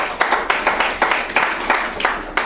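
Audience clapping in unison at a church service, a steady rhythmic beat of about four claps per second, close and moderately loud with no talking over it.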